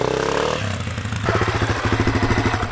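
A Honda CRF250F dirt bike idles with a low rumble, then revs up and pulls away from a standstill in a close, pulsing engine note, with a short clatter between.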